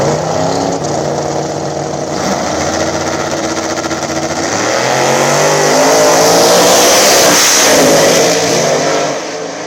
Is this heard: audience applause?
no